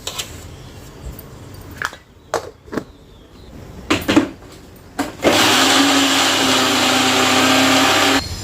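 A mixer grinder blends jaggery and peanuts: a few short clattering bursts and knocks come first, then the motor whirs steadily and loudly for about three seconds before stopping.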